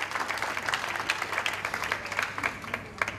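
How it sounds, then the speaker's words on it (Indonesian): A group applauds the fire team at a church youth gathering, a short burst of uneven, lively clapping that fills the whole moment. "Tepuk tangan lagi buat kelompok api."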